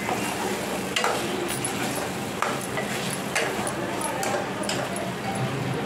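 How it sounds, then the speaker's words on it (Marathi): Masala sautéing in a pan, soft steady sizzling with occasional scrapes and clinks of a stirring spoon, fairly quiet and close throughout. "उरलेला मसाला आपण याच्यामध्ये घालायचा. मस्त परतून घ्यायचं."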